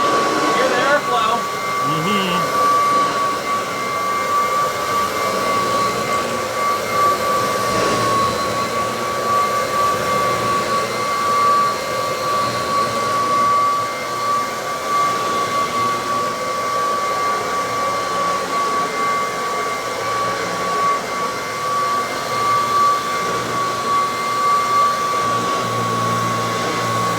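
A vacuum cleaner runs with steady, loud whooshing airflow and a sustained whining tone, droning evenly throughout.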